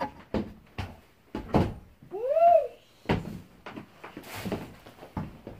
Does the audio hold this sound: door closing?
yes